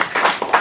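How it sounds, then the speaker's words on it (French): Audience at a retirement certificate ceremony for shipyard retirees applauding a retiree, a short burst of dense clapping with rising and falling swells, fairly close and with no talk over it. "Je vais vous demander de les applaudir au fur et à mesure qu'ils vont se lever."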